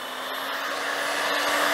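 A hot air gun blows a steady, loud whooshing roar with a faint whine while melting wax on a waxed jacket, with no pauses or talk.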